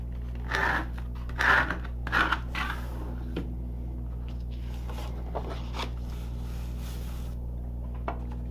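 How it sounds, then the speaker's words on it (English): Paper card base being folded and burnished along a score line, a few soft crinkling and rubbing sounds early on, then quiet scraping strokes, close and faint. "Let's take our card base and fold and burnish along the score line."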